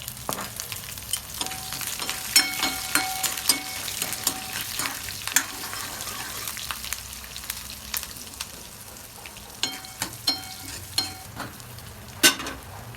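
Peanuts, curry leaves and green chillies frying in a pan for batata pohe, a soft continuous sizzle with intermittent stirring clinks and scrapes, heard close with no talking.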